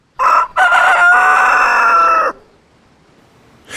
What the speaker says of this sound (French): Mais soudain, le chant du coq retentit.